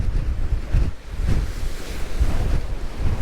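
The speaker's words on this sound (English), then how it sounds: "I have never seen waves this big here." Huge ocean waves crash and churn during flooding at Ocean City, Maryland, while strong wind buffets the microphone in a continuous roar, loud and close with no voices.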